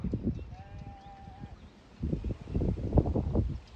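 Animal bleats from sheep or goats, several rising and falling calls, fairly close, with a thin whistle-like tone early on.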